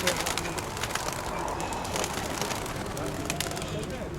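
Homing pigeons coo and flutter outdoors at a fair as they are released, over steady background noise, with people talking nearby.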